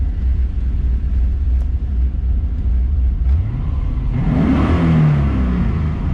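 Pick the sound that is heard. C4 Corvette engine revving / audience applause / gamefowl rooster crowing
C4 Corvette engine revving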